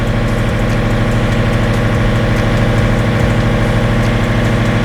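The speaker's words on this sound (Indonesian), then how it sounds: "Setelah tekan tombol yang hijau, otomatis mesin akan hidup." Bappeda Litbang generator set engine running steadily after starting from its green start button, a loud, close, constant droning hum with a throbbing low rumble and no talking.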